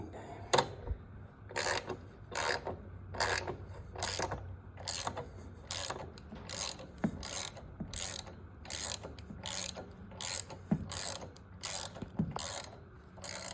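Fastener being tightened on a Kohler engine with a ratchet, a rapid series of close, sharp clicking strokes in uneven bursts, with no talk over it.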